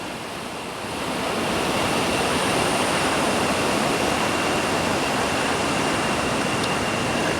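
Shallow, low, clear jungle river in Costa Rica rushes steadily in a dense, continuous wash that builds after the first second and holds, close and loud, with no voices.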